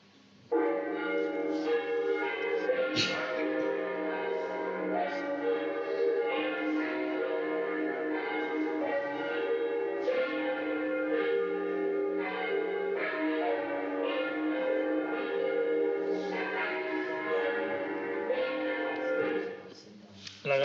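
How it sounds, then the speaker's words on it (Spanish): Church bells rung by hand in alternating combinations peal steadily and loudly for about twenty seconds, their overlapping strikes forming a continuous, ringing texture. "Consiste en controlar tu campana y escuchar a la otra para que haga distintas combinaciones, pero no toquen al mismo tiempo."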